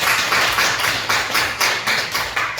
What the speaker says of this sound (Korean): 잘 읽어서 박수 한번 주고.